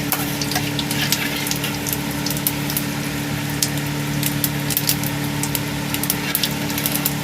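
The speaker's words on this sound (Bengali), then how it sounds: "তেলটা গরম হয়ে গেছে, এখানে আমি দিয়ে দেবো একটু গোটা জিরে" Whole cumin seeds sizzle in hot oil in a pan, a steady close crackle with scattered pops over a low hum, with no talking.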